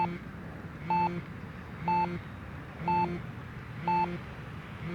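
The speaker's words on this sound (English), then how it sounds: "Timer expired." An RC transmitter's flight timer for an FMS Ranger 1220mm V2 model plane beeps in four evenly spaced, close, clear double-tone bursts about one second apart over a low background hum.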